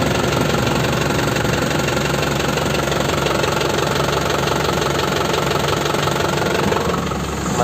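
A 2003 Isuzu Panther LS diesel engine idles with a steady, loud, even clatter and hum, held close and unchanging for several seconds with no speech.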